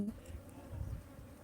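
Soft buzzing of a honeybee swarm near a hive box under a tree hums low and steady, faint and close, with no voices.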